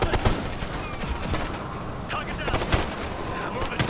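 Explosions and gunfire in the video game Ghost Recon Future Soldier, during a Zambia mission: dense, loud, sharp booms and crackling bursts repeat throughout, with someone talking over the action.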